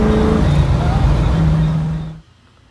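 A 1969 Ford Mustang Mach 1 V8 idling and rumbling as it is driven onto a lift in a garage, a loud steady engine drone with a faint tonal whine, then cutting off abruptly to near silence.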